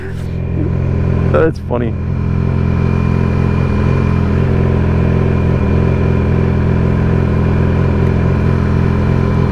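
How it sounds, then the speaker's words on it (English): A Yamaha R6 sport motorcycle's engine runs steadily at low, idling revs while it is eased into a parking spot, a continuous close rumble with a brief voice over it early on. "I'm just going to move my bike in this parking spot"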